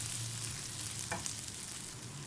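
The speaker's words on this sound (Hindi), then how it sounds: "ये कटा हुआ एक टमाटर इसके अंदर चला जाएगा, इसको भी हम भून लेंगे" Chopped tomato frying with onions in a pan for a stuffed qeema karela dish, giving a steady close sizzle with a brief stir or scrape partway through; no voices.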